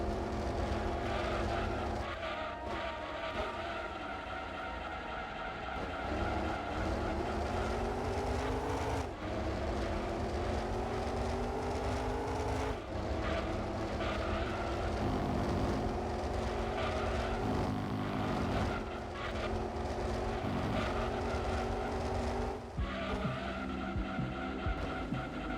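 Race car engines in a Gran Turismo 2 PlayStation race scream continuously, their pitch climbing and dropping sharply with each gear change. Tyres squeal as cars jostle for position, with no pause in the loud, close mechanical roar.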